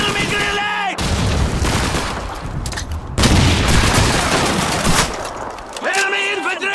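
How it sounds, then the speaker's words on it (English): Grenade explosion and gunfire in Call of Duty 2, a loud battlefield barrage of machine-gun rattle and heavy booms, with shouted voices breaking through at the start and end. "Enemy grenade!"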